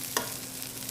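Cooked rice goes into a hot pan for fried rice, with one quick scrape followed by a steady, soft sizzle close by.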